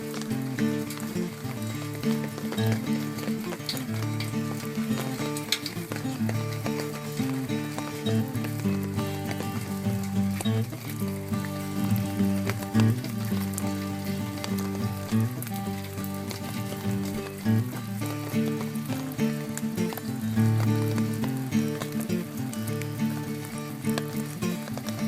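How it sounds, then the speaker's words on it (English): Heavy rain pours down in a garden during a wet walk, a steady dense hiss of drops on leaves and surfaces lasting throughout, with no talking. "we got a downpour"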